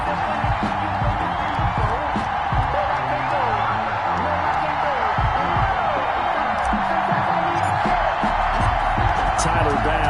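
Stadium crowd noise from a PS4 football game as the Bills take the field against the Kansas City Chiefs before a sold-out crowd in upstate New York, a steady loud roar of cheering running throughout under commentary talk.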